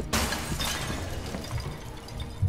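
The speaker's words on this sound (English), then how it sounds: "How am I just breaking through all the glass in this place?" Glass shattering in the video game Marvel's Avengers: a sharp crash near the start followed by tinkling debris and further breaking, loud and close with a low rumbling game background.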